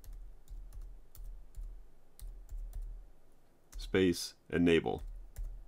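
Keys clicking on a MacBook Pro keyboard while a Terminal command is typed, light repeated taps in short bursts, followed by someone speaking.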